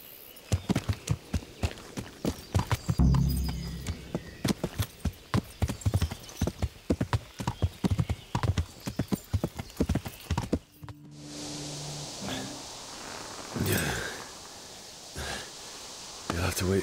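Horse hooves clip-clop at a steady walking rhythm in Kingdom Come: Deliverance, close and fairly loud for about ten seconds, before the scene shifts to quieter ambience with a brief voice.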